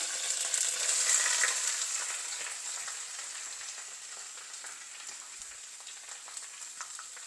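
Steady, close sizzling of sliced onions frying in a pan for Sri Lankan seeni sambol, a dense crackling hiss that swells early then settles to an even simmer, with no voices.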